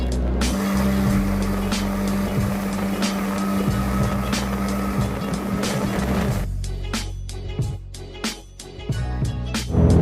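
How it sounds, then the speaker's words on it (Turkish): Motorboat engine running steadily while a boat is driven on the water in Moscow, a loud continuous drone with a low tonal hum, then shifting to rougher, choppier engine and splash noise near the end. "Evet tekne kullanmaya başladık."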